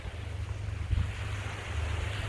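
Sea waves wash steadily near the shore, a continuous low rumble of surf with wind noise buffeting the microphone, fairly close and without voices.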